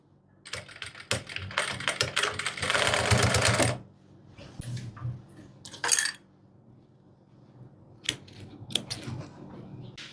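A sewing machine stitches a welt pocket into a thick coat fabric, with one sustained whirring run followed by shorter stop-start bursts and quiet gaps, close by and with no talking.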